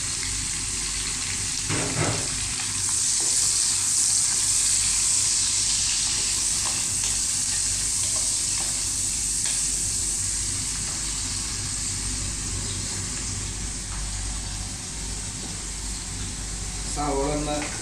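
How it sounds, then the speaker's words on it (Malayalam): Four large chopped onions sizzle steadily in hot oil in a pan while making chicken curry, a loud continuous frying hiss with occasional stirring clatter running throughout. "4 വലിയ സവോള അരിഞ്ഞ് ചേർക്കുന്നുണ്ട്."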